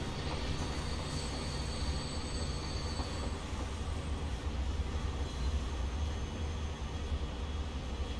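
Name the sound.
commuter train arriving at station, Transport Fever 2 video game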